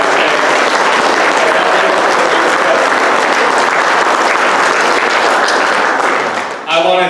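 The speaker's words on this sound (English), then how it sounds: "I think Sarah needs a round of applause, because she's on her way out." Loud, sustained clapping from an audience at a boys soccer team banquet, steady for several seconds before tapering off, with a voice starting to speak as it ends.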